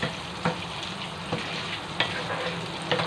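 Ingredients for ginisang mongo sauté in a pan, a continuous close sizzle broken by a few sharp stirring clicks spaced about a second apart, with no talking.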